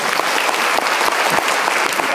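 Dense, steady applause from a conference audience at the close of a PHP security talk, loud and continuous throughout with no pauses.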